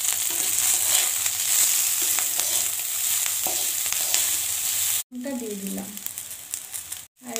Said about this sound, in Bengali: ক্যাপসিকামটা আমি অল্প একটু ভেজে নিয়েছি, এতে এবার আমি কাঁচা লঙ্কাগুলো দিয়ে দিলাম